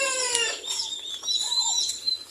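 Plymouth Rock chickens clucking and crowing on a small farm, several birds calling close by in irregular overlapping bursts, with a faint low hum underneath.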